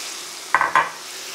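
Mushrooms hit a very hot pan, giving two short, bright sizzling bursts close by, each fading within a fraction of a second against a quiet kitchen background.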